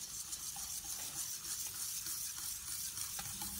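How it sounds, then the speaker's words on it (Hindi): A flour mixture with three tablespoons of maida is stirred for baked cheesy pasta, producing a steady, soft scraping and swishing at close range, continuous and fairly quiet with faint sizzle-like texture. "अच्छी तरह से मिक्स करना है इसको"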